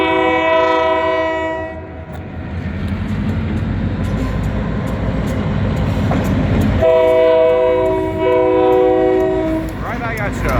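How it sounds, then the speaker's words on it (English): A freight train with boxcars passes close by with a heavy rumble and wheel noise, and its loud multi-tone horn blares in two long blasts. "we got a train coming right now."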